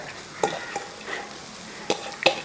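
Onions sizzle softly in a pan, with a few sharp stirring clinks and scrapes against the metal.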